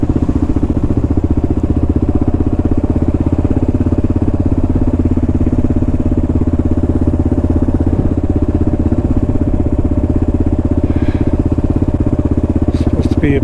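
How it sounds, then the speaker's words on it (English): A motorbike engine runs steadily at close range in a hillside cemetery, a loud continuous low rumble with a faint rattle and no change in pace throughout. "here I am with my motorbike"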